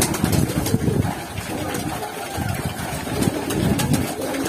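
Pigeons coo in repeated soft pulses close by, with a breezy outdoor background and no talk.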